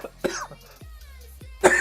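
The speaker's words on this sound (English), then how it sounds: "Didn't mean to cough." A man streaming a World of Warcraft match coughs several times in short, sharp bursts close to the microphone, each one rough and throaty, with brief pauses between them.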